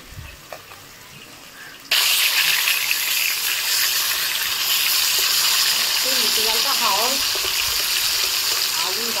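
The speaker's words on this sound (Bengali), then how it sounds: "মাছটা ভাজা হয়ে গেছে" Fish frying in hot oil in a pan, a loud, dense, continuous sizzle that starts abruptly and holds steady close to the listener, with a voice speaking over it.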